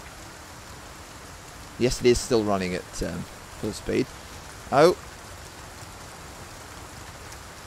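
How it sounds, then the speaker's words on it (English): Steady rain falls in Resident Evil 4 Remake as a soft, continuous hiss in the background, while someone talks briefly in short bursts over it. "Here we are again in the absolutely beautiful rain."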